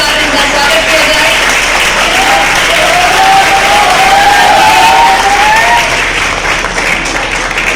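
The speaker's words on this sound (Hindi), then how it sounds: "बहुत जोरदार तालियों के साथ इनका स्वागत किया जाए।" Loud, sustained applause and crowd noise welcome an honoree at a Bihar Diwas award ceremony, many hands clapping together close by with a faint tonal background sound running through.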